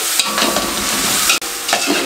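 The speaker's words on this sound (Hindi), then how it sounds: "अच्छे तरीके से 2 से 3 मिनट इसकी खाने में भुनाई कर लेंगे" Spices and dry coriander powder being roasted and stirred in a pan for white mutton pulao, a loud close sizzle with brisk scraping strokes of a spoon, broken once by a brief pause.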